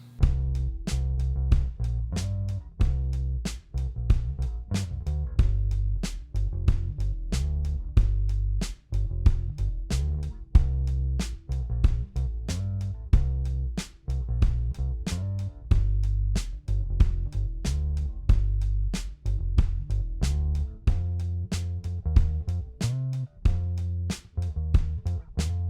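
Guitar and bass play the verse of a song in a steady, groovy rhythm with dense, repeated strummed and plucked hits over a strong low end, continuous and close throughout with no voices.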